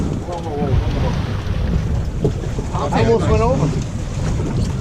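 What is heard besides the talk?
wind blowing on a boat at sea off Montauk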